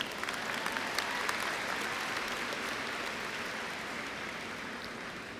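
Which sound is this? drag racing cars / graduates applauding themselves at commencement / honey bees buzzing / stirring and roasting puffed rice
graduates applauding themselves at commencement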